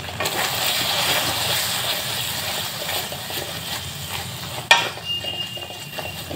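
Potatoes fry with salt in a pan for Bihari aloo dum, a steady soft sizzle and hiss throughout, broken near the end by one sharp clink of a utensil against the pan.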